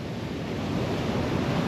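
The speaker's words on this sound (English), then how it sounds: "The wave just bashed me and there's salt water all over me" Ocean surf washes onto Sapphire Beach at Coffs Harbour, New South Wales, Australia, on a morning walk: a steady, close roar of breaking waves with wind buffeting the microphone and no voices.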